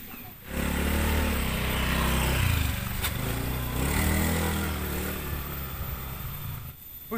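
A motorcycle engine drones steadily, fairly close, holding a rough, buzzing tone for several seconds before easing off, with faint background noise.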